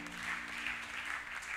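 An audience at a youth seminar gathering claps to acclaim the Lord: dense, steady applause that holds at an even level throughout.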